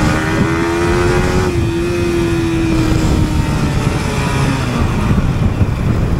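A Yamaha R15 V4 motorcycle engine runs loud and close, its pitch holding steady then dropping as it shifts down from second gear, with a rough idling rumble underneath.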